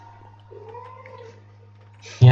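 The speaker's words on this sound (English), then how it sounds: "Yes, I hear you meowing." A house cat gives a drawn-out meow, faint and wavering under a low hum, followed by a sudden loud burst of noise at the end.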